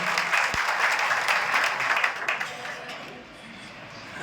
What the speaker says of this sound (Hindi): तो एक बार जोरदार तालियां आप सभी के लिए